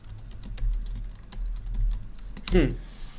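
Typing on a computer keyboard, a quick run of close, crisp key clicks in an uneven rhythm, ending in a slightly louder burst of keystrokes.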